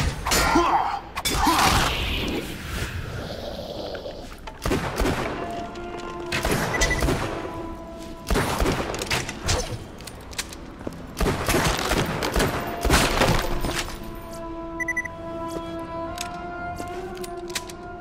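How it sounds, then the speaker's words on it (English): Skeletons firing guns at the player in Tiny Tina's Assault on Dragon Keep, with loud bursts of gunfire mixed with thuds, smashes and impacts in clustered waves across a chaotic fight. "They start shooting at you!"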